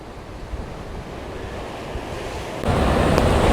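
Ocean surf roars continuously against the cliffs at Sunset Cliffs in San Diego, wind buffeting the microphone, and the rumble grows louder as a bigger wave crashes near the end.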